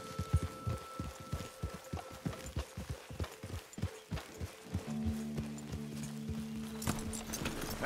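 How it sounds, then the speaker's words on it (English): Horse hooves clip-clop in an even walking rhythm in Red Dead Redemption 2, moderately close, with a low steady hum joining in the second half. "Hey, get back on your horse."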